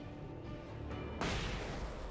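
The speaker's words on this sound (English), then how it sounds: "I'm gonna use a flashbang, why not?" A flashbang grenade goes off in the video game Alan Wake: one sudden broadband burst that cuts through a steady, moderately loud game soundscape and then lingers as a hissing wash.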